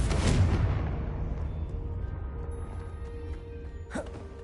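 Confringo blasting curses exploding in Hogwarts Legacy: a loud booming blast opens, then rolls off into a long rumbling decay, and a second, sharper crack bursts out near the end.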